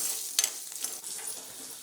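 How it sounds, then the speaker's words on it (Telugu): Chana dal and urad dal crackling as they fry crisp in hot oil for a buttermilk curry tempering, a steady close sizzle with small spits and a couple of louder pops. "క్రిస్పీగా వేగాలన్నమాట శనగపప్పు, మినపప్పు ఇవన్నీ కూడాను"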